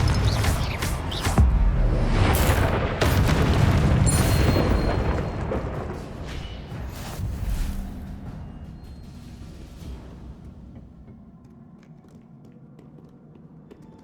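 A Confringo blasting curse explodes in Hogwarts Legacy with a heavy booming blast and crackling debris, loud at first and then rumbling and creaking as it fades into quiet over several seconds.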